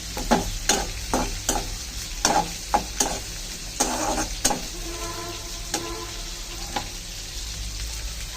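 Dried fish frying in a pan with other ingredients, stirred over and over with a spatula that scrapes and clacks at an irregular pace, each stroke sounding over a steady close sizzle.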